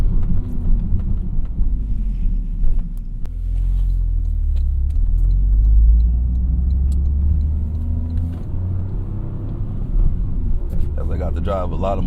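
A Toyota GR Corolla pulling hard under full throttle from inside the cabin, a deep rising engine rumble that swells over several seconds and then eases, with a driver talking over parts of it.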